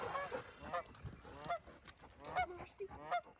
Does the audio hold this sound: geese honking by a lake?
yes